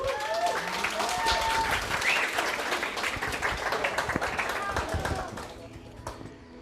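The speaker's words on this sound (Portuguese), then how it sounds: "palmas pro LG, por favor" An audience at a game jam opening event applauds, a loud dense burst of clapping that tapers off toward the end, with some voices and cheers mixed in.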